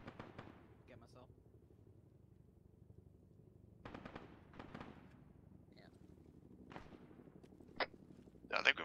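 Gunfire rattles in Arma 3 during a marine operation near a mosque, low rumbling bursts of automatic fire that are mostly distant and muffled, louder near the end, with voices talking over them at times.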